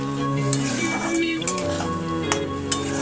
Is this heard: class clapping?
no